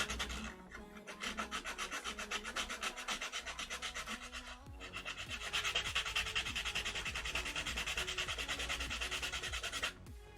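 A metal miniature is hand sanded by hand, producing close, rhythmic rasping strokes that are quiet at first, briefly pause, then grow louder and faster before stopping abruptly near the end.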